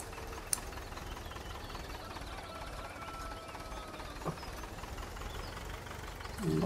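Tractor engine idling in Farming Simulator 2013, a steady low rumble with a faint knocking vibration running evenly throughout, with a brief louder bump near the end.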